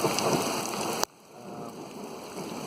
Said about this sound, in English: Here I am waiting out a thunderstorm.